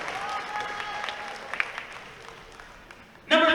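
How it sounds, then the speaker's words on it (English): Crowd applause at a girls' all-star basketball game in the Greater Houston area, a steady wash of clapping with some cheering that runs throughout, then swells sharply louder near the end. "Keep clapping, keep clapping."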